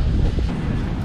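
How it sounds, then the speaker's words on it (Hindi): Strong wind buffets the microphone on a beach in Arambol, Goa, a heavy low rumble with gusty fluctuations throughout, no speech heard. "बहुत तेज हवा आने लगी"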